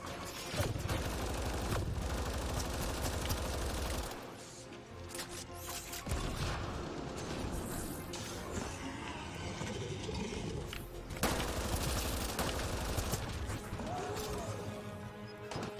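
Bursts of gunfire in the Mass Effect video game, dense and continuous under game music and effects, with a character voice speaking over the action.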